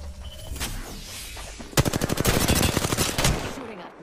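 Automatic gunfire in the Apex Legends battle royale shooter: a sudden, loud, rapid burst of shots that rattles on steadily for nearly two seconds, then cuts off, over a low hum of game ambience.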